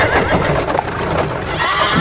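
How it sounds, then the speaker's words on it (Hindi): A horse pulling a carriage neighs loudly with a sharp whinny over steady clip-clop hooves and rolling wheels, close and prominent. "घोड़ा गाड़ी में मजा आ रहा है"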